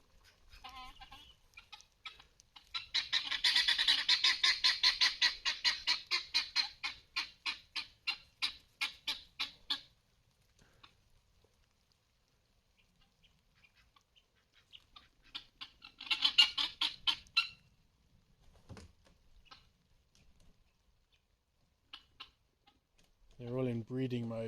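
Guinea fowl and ducks in breeding season on a farm call in rapid rhythmic bursts, one long chattering run followed by a shorter burst, with a brief voice near the end.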